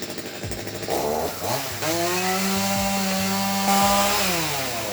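A chainsaw engine revs up loudly and bites into a one-metre log, its pitch dropping under load as it cuts steadily, close by.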